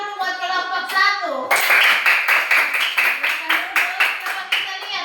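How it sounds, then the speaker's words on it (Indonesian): A classroom of children claps for a group presentation in a Pancasila lesson, breaking into a steady rhythmic burst of hand claps right after a teacher speaks. "Ya, tepuk tangan dulu buat kelompok 1"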